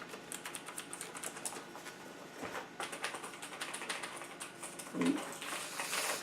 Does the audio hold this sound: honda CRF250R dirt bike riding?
no